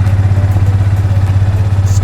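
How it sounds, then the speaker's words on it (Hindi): Motorcycle engine idling steadily right after a chain kit replacement, with a loud, close, even low rumble that pulses rapidly throughout and no talking. "बाइक को करते हैं स्टार्ट"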